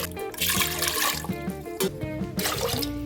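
Water poured from a tumbler into a pressure cooker in a home kitchen, a continuous splashing trickle with sloshing surges, close and fairly loud, without speech.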